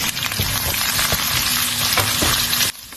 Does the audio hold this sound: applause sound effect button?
no